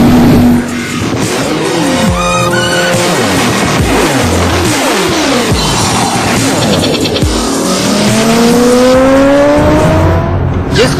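A gang of motorbikes revving hard during risky stunts on Delhi roads, engines whining up and down in pitch as several bikes pass close by, loud and continuous with overlapping throttle bursts.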